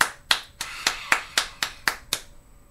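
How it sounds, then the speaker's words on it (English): About nine sharp, close hand claps land in an even, unhurried rhythm with brief silence between each, one person clapping alone. "give yourself a round of applause"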